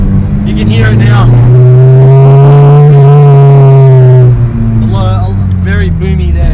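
A Honda Integra Type R DC5 fitted with a 70mm titanium race exhaust revs up and holds a loud, boomy, rising engine note before dropping back, heard close and dominant with brief speech at the edges.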